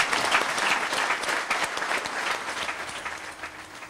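Sustained applause from a gathered crowd paying final tribute to a deceased young man, steady and dense for the full span with no talk over it.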